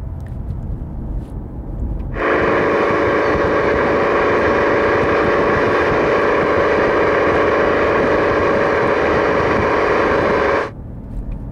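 A car engine and exhaust held steady at 3000 RPM, a loud, continuous droning note with stacked tonal harmonics that starts abruptly after two seconds and cuts off near the end.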